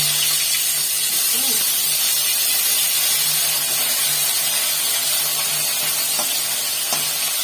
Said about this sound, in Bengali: কিছু মাছ এরকম এখানে ভাজা হচ্ছে